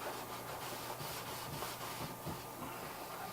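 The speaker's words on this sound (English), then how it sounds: "And I'm going to scrub it good." A kayak surface is scrubbed clean with quick, steady back-and-forth rubbing strokes, a continuous close scratchy friction sound with no voices.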